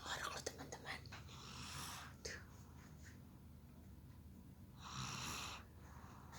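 A sleeping baby snores softly at close range in faint, irregular breaths, with rustling and a quiet adult voice murmuring at a low level.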